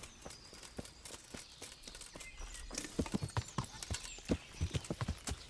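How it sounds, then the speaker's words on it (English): Horse hooves clip-clop in the medieval video game Kingdom Come: Deliverance, a steady stream of hoofbeats that grows louder and more pronounced in the second half, with faint background sounds and no talk. "Oh, we're going to have to get on our horse."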